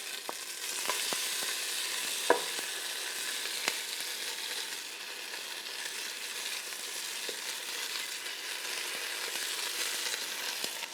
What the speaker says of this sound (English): And now we're back in with some oil. And in with the oxtail.